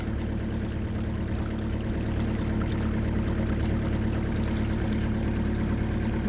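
Water drains steadily out of a flooded pasture in a continuous, even rush, close and unbroken, with a low rumbling undertone throughout and no voices.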